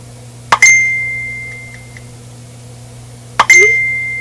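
A phone app notification sounds twice, about three seconds apart, each time a sharp click followed by a bright ringing tone that slowly fades, loud and near in a quiet room.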